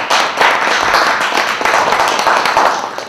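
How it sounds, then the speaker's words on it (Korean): A room of listeners claps to welcome a speaker at a graduate-school lecture, a loud, slightly uneven patter of hands that swells early and tapers toward the end, with no voices. "여러분 큰 박수 부탁드립니다."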